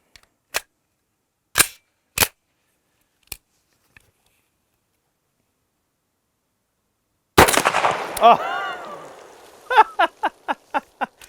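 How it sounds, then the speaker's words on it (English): A Banshee firearm in 10mm is fired at water jugs in a shooting challenge: sharp isolated cracks spaced apart, then a burst of rapid shots with splashing and clatter, followed by a quick string of evenly spaced reports. "You really have to shoot the Banshee in 10mm to truly experience it."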